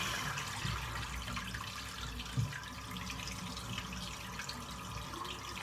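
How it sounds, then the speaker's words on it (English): Tap water running into a bathroom sink, a continuous close rushing splash that stays steady throughout, with a couple of faint knocks. "I'm just going to refill the sink."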